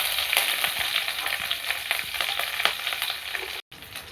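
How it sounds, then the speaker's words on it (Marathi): Cumin, mustard seeds, garlic and green chillies tempering in hot oil for a brinjal dish, giving a steady close sizzle and crackle with scattered pops throughout, broken by a brief dropout near the end. "आता फोडणी द्यायचं चालू आहे."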